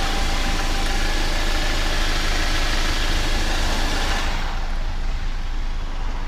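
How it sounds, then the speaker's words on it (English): 2019 Jeep Wrangler Unlimited Rubicon eTorque with the 2.0-liter four-cylinder engine idling, a steady, dense engine hum with broad hiss, close and constant, with no talking. "If you can hear that four cylinder purring."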